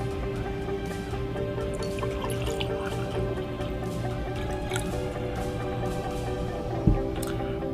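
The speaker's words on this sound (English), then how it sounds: "which we will pour in 2 glasses" Unfiltered tap water is poured into two glasses, a continuous liquid trickle and fill sound heard up close, steady throughout with a single small knock near the end.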